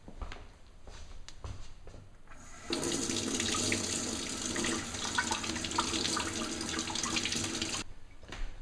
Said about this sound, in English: Now I'm just going to fill the rest of this up with water.